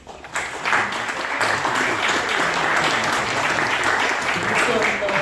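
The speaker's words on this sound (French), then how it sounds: "Et je vous propose avec moi de les applaudir tous." An audience at a social entrepreneurship awards event applauds the participants, a sustained, even wash of clapping that starts abruptly and holds steady, with some murmured voices beneath.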